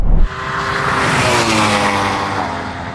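A Yamaha R1M sportbike screams past in a drag race against a Porsche Taycan Turbo GT and Ferrari SF90, a loud sustained high-revving engine roar with a sharp onset, staying strong throughout with no talking.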